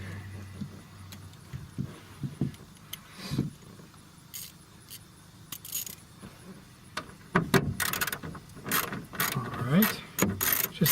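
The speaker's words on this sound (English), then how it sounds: "This is a 1/4" drive ratchet with an 8mm." A 1/4 inch drive ratchet with an 8mm socket loosening a speaker bolt in a 2006-2011 Honda Civic gives scattered metallic clicks and taps, with short bursts of ratcheting and clattering near the end, close up and fairly faint.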